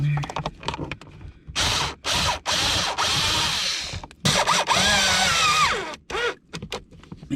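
A power tool drives the blower motor bolts on a 2000-2005 Buick LeSabre, giving loud, close bursts of whirring and ratcheting that start and stop repeatedly, some brief and some held for a couple of seconds, with quiet gaps between.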